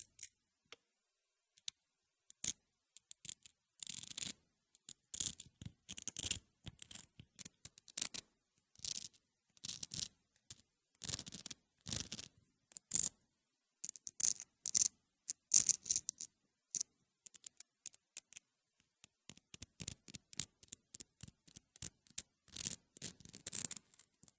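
Small metal wood screws with star-shaped heads and threaded windings handled close up, giving sparse, sharp clinks and ticks in irregular quiet bursts with long silent gaps, no voices.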